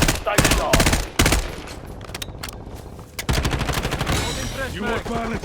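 Rapid automatic gunfire bursts from Call of Duty Warzone Resurgence mode, loud close volleys at the start, a quieter lull, then another stretch of sustained firing.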